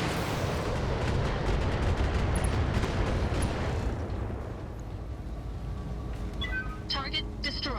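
A mech's weapons fire on a turret in the BattleTech video game as a dense, roaring barrage of heavy booms and blasts. After a few seconds it gives way to a quieter rumble with faint electronic tones.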